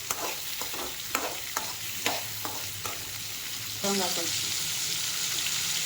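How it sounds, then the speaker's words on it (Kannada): Tomato and onion fry in hot oil for a goat-meat masala curry, a steady sizzle with repeated scraping stirs of a spoon, the frying swelling louder and brighter near the end as the mix is turned. "ಟೊಮೆಟೊ ಹಣ್ಣು ಈರುಳ್ಳಿ ಫ್ರೈ ಆಗಿದೆ"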